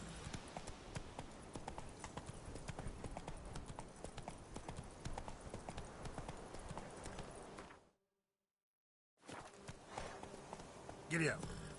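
Horse hooves clop in a steady galloping rhythm in The Witcher 3 video game, loud and continuous, breaking off briefly into silence before resuming with a short high cry near the end.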